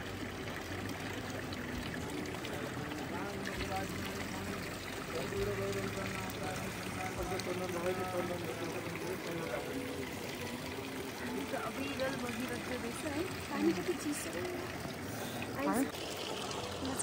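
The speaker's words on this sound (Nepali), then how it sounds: "त्रिशुल धाराको पानी" Water of the Trishul Dhara spring on the Gosaikunda trek in the Nepal Himalaya, a steady close flowing and trickling rush that runs throughout, with someone talking over it.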